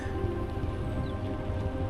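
Steady rain hisses during a rainy-day bike ride in China, an even wash of patter and spray with a low rumble underneath and no voices.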